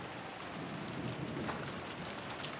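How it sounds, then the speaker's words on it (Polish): Steady heavy rain falls in Umineko no Naku Koro ni as a dense, even hiss with no voices, faint and continuous for a few seconds. "Tu dalej pada, leje i jak skurczybyk."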